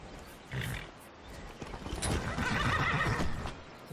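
A horse in the video game Skyrim whinnies loudly and close, with a flurry of hoofbeats clattering alongside, all within a few seconds.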